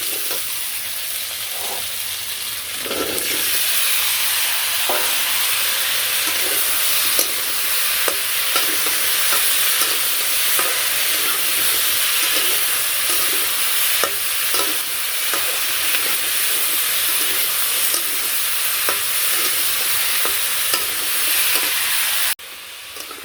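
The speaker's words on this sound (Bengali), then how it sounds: "তো যে আলুগুনা তেলের মধ্যে ভেজে নিয়ে নিচ্ছি" Potato pieces fry in hot oil in a village kitchen, a steady loud sizzle with repeated scraping stirs, then a brief break near the end; no one speaks.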